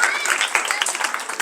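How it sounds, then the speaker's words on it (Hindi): Children at a community event clap loudly together in a brisk, dense burst of many hands, close and sustained, with crowd voices mixed in underneath. "बच्चे जोर से ताली बजाओ इसे बात सभी"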